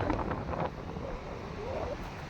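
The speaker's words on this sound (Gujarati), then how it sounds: "અત્યારે બહુ પવન છે અત્યારે દરિયા કિનારે પવન કેટલો છે" Wind buffets and roars steadily across the microphone at the shore, with a faint wash of surf underneath.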